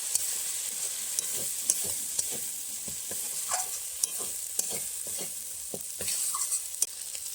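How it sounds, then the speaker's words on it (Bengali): Turmeric and chili powder sautéing in a pan for a river fish curry, a soft continuous sizzle broken by repeated light scrapes of a spoon, close and steady, no talking. "দিয়ে দিচ্ছি 1 চামচ মতো হলুদ গুঁড়ো, দিচ্ছি 1 চামচ লঙ্কা গুঁড়ো, এটাকে ভালোভাবে কষিয়ে দিই"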